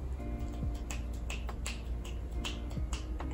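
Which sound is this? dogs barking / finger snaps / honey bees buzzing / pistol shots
finger snaps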